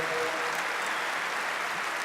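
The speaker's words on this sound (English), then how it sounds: "You can get applause for eradicating polio." An audience applauds at a Rotary gathering addressed by the Prime Minister of Canada, a brief, dense, even wash of clapping with no voices over it.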